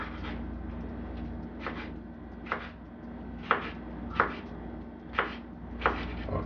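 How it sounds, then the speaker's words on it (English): A sharp knife chops garlic cloves one at a time on a cutting board, producing about seven distinct close taps spaced roughly a second apart over a low background hum. "Now it's time to cut up my garlic."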